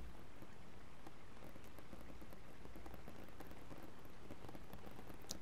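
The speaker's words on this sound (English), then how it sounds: "The rain falling all around." Soft rain falls all around, a steady dense hiss of patter with no voices, faint and even from start to finish.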